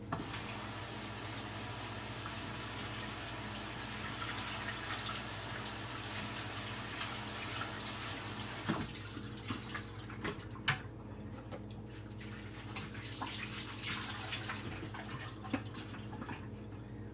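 Fruit rinsed under a running kitchen tap, a steady close stream of water with the pour cutting off partway and soft drips and handling sounds following, no talking.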